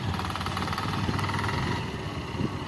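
A small motorcycle engine runs steadily nearby at a low, even idle, faint and continuous with no talk over it.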